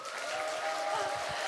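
Audience in a seminar hall clapping for a speaker taking the stage, a steady wash of many hands applauding at moderate volume, with a faint sustained tone under the clapping.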